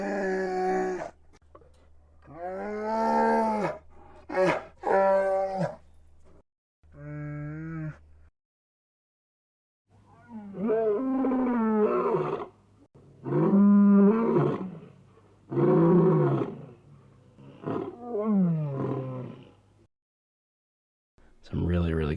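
Sad, somber animal-like vocal elements for a Chewbacca-style creature voice: a series of mournful, harmonic moaning and groaning calls, some roar-like, in separate bursts with brief pauses, loud and close, with no speech.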